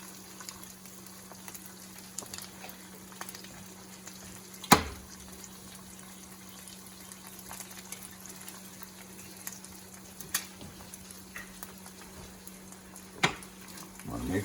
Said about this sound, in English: Make sure to stir your eggs and your chorizo so you can get it all blended very well